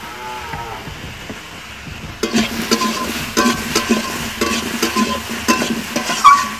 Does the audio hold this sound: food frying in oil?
yes